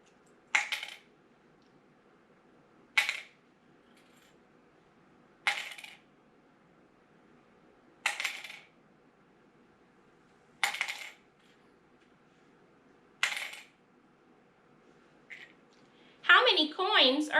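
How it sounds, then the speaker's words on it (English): Six separate clinks of coins dropping into a cup, evenly spaced a couple of seconds apart, followed by a brief rattle at the end. "How many coins are in my cup?"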